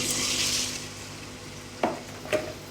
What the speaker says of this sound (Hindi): तो सबसे पहले हम अपना चिकन ही फ्राई कर लेंगे